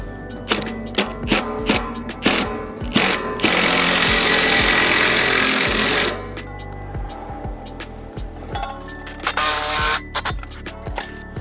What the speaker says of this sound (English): then you're just going to put the rest of the screws in, following down to your last hole